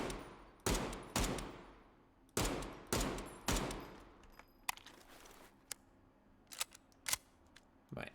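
Automatic gunfire from an AK-style rifle and an MP5 in a video game demo, with several loud sustained bursts early on, then shorter sparse shots and clicks trailing off.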